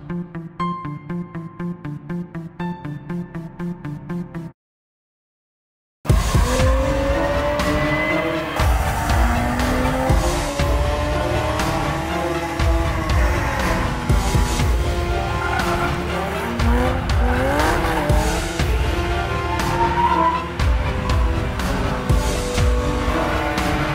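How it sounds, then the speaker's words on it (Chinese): A Jaguar F-Type sports car drifts with its dynamic stability control set to track mode, its engine roaring loudly and tires squealing in long sweeping wails. A few seconds of music come first, followed by a brief silence. "你可以在这个时候进行甩尾烧胎"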